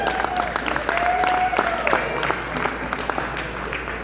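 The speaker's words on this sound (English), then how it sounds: "Go ahead and clap for that." A crowd at a championship celebration event gives sustained applause and cheering. The dense clapping stays steady across the whole stretch, while a voice talks over it near the microphone.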